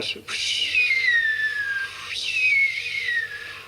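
Two long descending whistles, each falling steadily in pitch like a dropping bomb, made by a human voice imitating falling bombs at Dunkirk; loud and close.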